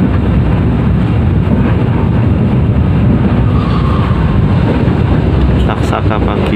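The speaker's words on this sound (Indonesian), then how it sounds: "kereta api Ranggajati sampai di stasiun besar Kebumen jam 9:46 sesuai jadwal, dan akan berangkat lagi jam 9:48" The Ranggajati executive train rumbles at Kebumen station with a loud, steady low roar and broadband rushing noise, heavy and continuous throughout, with a voice speaking faintly under it.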